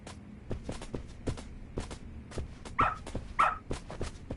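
A dog in the video game Lost Judgment, sniffing and padding with quick rhythmic footsteps and soft huffs, then two short whimpering yips close by, all without talk.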